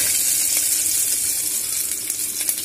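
Dried red chillies frying in a pan, a steady bright sizzle and hiss running throughout without pause.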